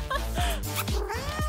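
Cartoon cat meowing, three or four close, clear meows with rising and falling pitch in quick succession.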